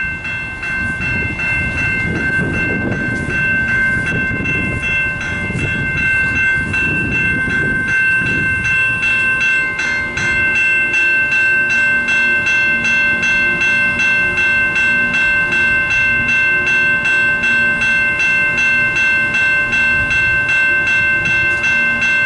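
An Amtrak Wolverine passenger train with two Amtrak Midwest engines rolls past close by, loud and continuous, with rumbling wheels, rhythmic clatter on the rails and a steady high whine.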